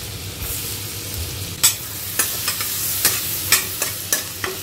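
Garlic frying in a karahi on a gas stove for cheese corn pasta, a steady hiss with several sharp clicks and stirring scrapes scattered through, close by, no talking.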